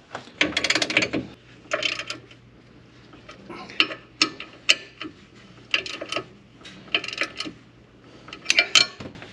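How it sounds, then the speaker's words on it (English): A 3/4 inch drive ratchet loosening a radiator part, giving repeated bursts of metallic clicking at close range, uneven in rhythm, with short pauses between strokes. "3/4 inch drive ratchet on there"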